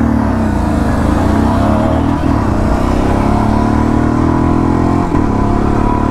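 A Royal Enfield Classic 350 motorcycle races at speed, its engine droning loud and close in a steady high-revving roar with brief shifts in pitch, wind noise mixed in, no voices.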